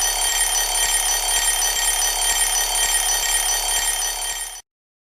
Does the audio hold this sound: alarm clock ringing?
yes